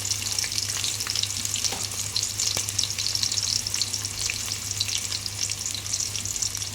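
Onions frying in hot oil with cinnamon, cardamom, cloves and star anise, a steady dense sizzle with small crackles and occasional stirring clicks, close up and with no talk.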